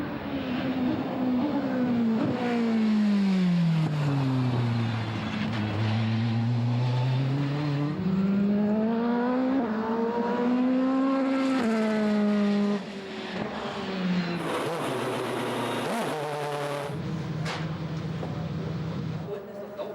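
A Mercedes CLK DTM racing car with a 4-litre V8 screams loudly through rising and falling revs, with the engine pitch sweeping up and down across gear changes as it accelerates and brakes, dominating the whole stretch.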